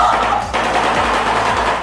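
A shoebill's bill-clattering comes as a rapid, loud machine-gun-like rattle of close knocking pulses, with a brief break midway before the clatter resumes.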